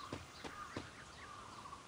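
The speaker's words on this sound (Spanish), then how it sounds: "¿Cómo se escuchan los pajaritos?" A few short bird chirps in the video game Free Fire MAX ring out over a soft steady background hum, with a thin whistled trill lingering near the end.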